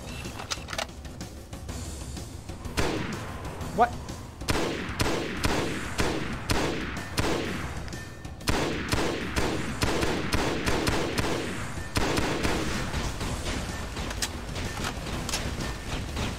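Rapid gunfire in the shooter game Halo SPV3, bursts of sharp repeated shots in quick rhythmic volleys with short pauses between them, loud and close throughout.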